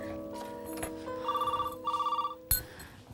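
A telephone rings in two short trilling bursts, fairly close, followed by a sharp clunk as if the handset is picked up.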